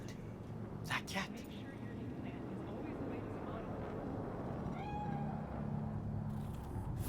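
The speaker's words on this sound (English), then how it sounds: "Do you see it? That cat." A cat meows in Night City within the Cyberpunk 2077 video game, a couple of short calls rising over a steady ambient hum of game background noise, fairly faint and mid-distance.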